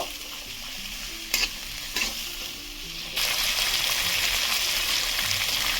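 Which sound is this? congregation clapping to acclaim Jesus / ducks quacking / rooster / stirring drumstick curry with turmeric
stirring drumstick curry with turmeric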